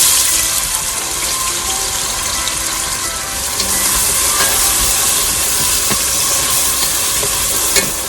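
Chopped onion sizzles in hot oil and ghee in a pan for chicken biryani, a loud continuous frying hiss with occasional stirring scrapes and pops, no talking.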